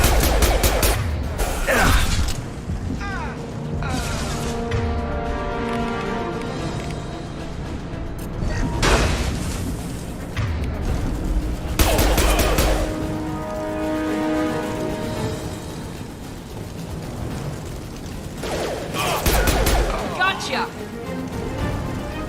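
Heavy gunfire in a Mass Effect 2 firefight against Blue Suns mercenaries and Vorcha, with bursts of shots, crashes and impacts running throughout alongside game dialogue.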